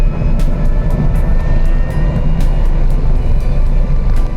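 A Vauxhall VX220 at full throttle in a drag race against a turbocharged car, loud sustained engine roar with rushing wind noise heard from inside or close by, constant and unbroken, no voices.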